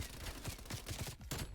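Rapid automatic gunfire in the video game Call of Duty Black Ops Cold War, a dense, steady burst of shots with a brief break near the end, loud and continuous.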